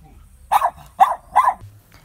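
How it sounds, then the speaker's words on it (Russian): A dog barking at another dog from a distance, three sharp close barks in quick succession with short pauses between them and no talk over them. "со стороны ее облаивает."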